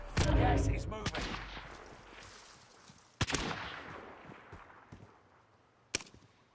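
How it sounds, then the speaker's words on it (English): Gunshots in Call of Duty Warzone on the Caldera map ring out as a few sharp, isolated cracks spaced seconds apart, starting with a louder burst and then fading with some reverb. "Shots down below in front of me."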